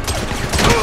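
Rapid gunfire from a firefight in the video game Grand Theft Auto 5 Online, a dense burst of shots that swells louder toward the end, with faint voices under it.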